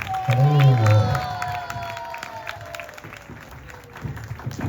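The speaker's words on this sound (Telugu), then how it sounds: "అందరికీ గట్టిగా చప్పట్లు కొట్టండి ఒకసారి" Crowd of spectators clapping and cheering after a dance performance at a temple event in Bhadrachalam, loud at first and then fading to scattered claps under a drawn-out voice.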